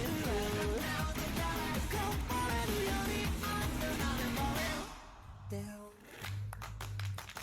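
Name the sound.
hand claps in an anime opening song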